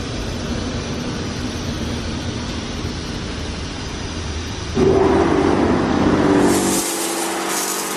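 A Mark VII Aquajet GT-700 automatic car wash at an Exxon gas station roars with a steady spraying hiss, rising to a louder rush of water partway through before dropping back.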